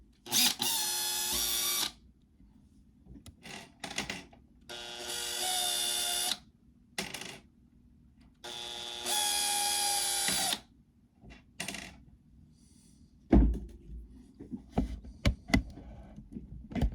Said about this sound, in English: Let me free the chassis from the cabinet